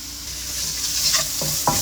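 Masala frying in a pan for an Indian mackerel fish fry, a steady sizzle with spoon stirring and a couple of scraping strokes near the end, close and without speech.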